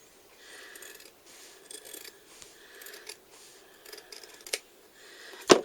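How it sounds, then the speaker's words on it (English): Scissors snip repeatedly through a bag being altered, trimming and rounding off a corner, a run of close, crisp cuts with short pauses and a sharp final snip. "We shouldn't be cutting that with that scissors if they're like that."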